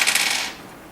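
A metal washer drops onto a bolt with one bright, close metallic clink that rings briefly and then fades.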